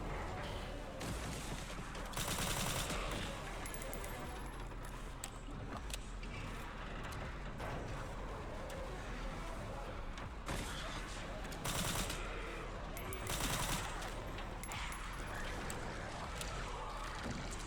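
Repeated gunshots in the survival horror game Resident Evil Requiem, loud sharp blasts spaced a few seconds apart over a busy, rumbling game background.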